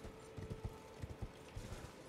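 Horse hooves clip-clop faintly while a rider travels across the open world of the video game Elden Ring, in a quick, uneven rhythm over a soft ambient bed.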